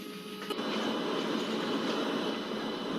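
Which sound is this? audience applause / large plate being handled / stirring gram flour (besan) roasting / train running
train running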